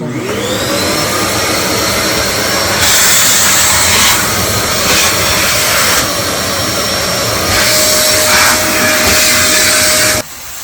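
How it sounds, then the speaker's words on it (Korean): A vacuum cleaner runs steadily and loudly through the first rough cleaning of an empty studio apartment, its motor whine holding throughout and shifting in pitch as the nozzle moves, before cutting off at the end. "기본적으로 이렇게 청소기를 이용해서 바로"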